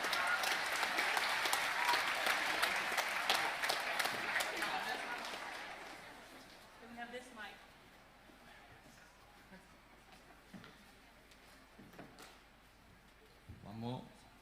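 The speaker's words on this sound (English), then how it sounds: "Give a round of applause for the teachers that have come up." A school NAIDOC Week assembly claps for teachers who have come up front, a dense burst of applause that fades after about six seconds, followed by quieter room noise, scattered taps and children's voices.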